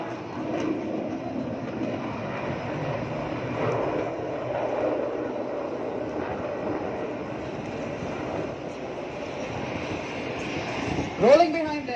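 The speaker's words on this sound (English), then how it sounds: "It's a 9 aircraft display team following the first or the second 3 set." Nine IAF Suryakiran aircraft in an aerobatic display at Aero India 2023 pass with a distant, sustained jet roar that swells and fades, with a commentator talking throughout.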